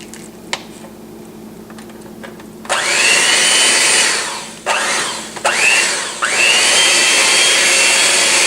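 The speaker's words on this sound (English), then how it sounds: "you're going to get out your blender and you're going to blend this together." A loud blender motor mixing mashed potatoes starts after a few quiet seconds, whirring steadily with brief dips and restarts as it runs, pitch rising after each restart.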